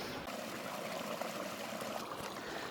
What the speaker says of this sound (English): there's a spot right here next to where this waterfall's at, little itty bitty waterfall